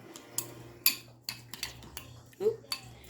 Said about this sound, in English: I'm going to take a spoon, the one I use for the garlic, and I'm just going to mix all that together